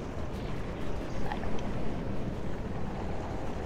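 Airship sailing in a guild airship video game, heard as a steady broad wind-like rush with a low rumble, continuous and even, with no talk over it.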